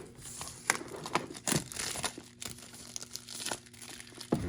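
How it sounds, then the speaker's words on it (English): Plastic shrink wrap on an MP3 player box is cut and peeled away, giving close, irregular crinkling and crackling bursts with sharp tearing snaps throughout. "Let's go ahead and cut the shrink wrap here."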